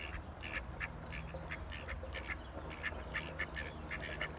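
Ducks quacking outdoors, a steady run of repeated quacks over continuous background noise, moderately distant and fairly quiet, with no voices.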